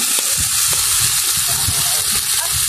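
Garlic frying in a pan gives a steady, loud sizzle with a bright crackling hiss that stays even throughout, while low voices murmur underneath.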